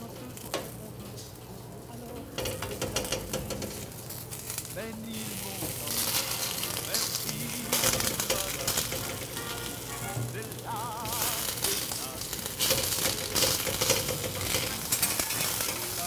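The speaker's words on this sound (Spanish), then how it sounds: "Sobre el comal vamos a asar a lumbre bajita" Nopal paddles roast on a comal over low heat, giving a soft continuous sizzle and crackle with occasional scraping, while a voice speaks over it.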